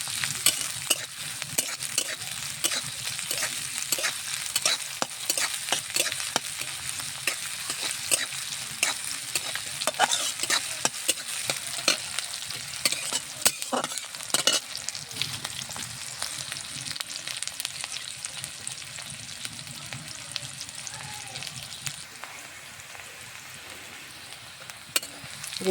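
Garlic, chopped green chili and onion fry in a pan with a continuous sizzle, while a spatula stirs them in frequent, irregular scrapes and clicks throughout.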